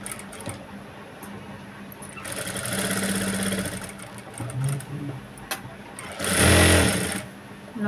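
A sewing machine with a normal presser foot stitches thread piping onto a boat neck, running in bursts of rapid whirring with brief pauses and a few small clicks between runs.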